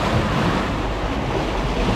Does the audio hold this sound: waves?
yes